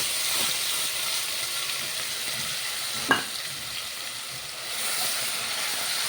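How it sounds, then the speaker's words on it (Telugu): Ground coriander, cumin, fenugreek and mustard spice paste frying in oil for a fish curry: a steady, close hissing sizzle runs throughout, with a single sharp scrape of stirring midway and no talk. "ఇట్లా ఇది ఉడకాలండి, మంచిగా వేగాలి, నూనెలో బాగా వేగాలి."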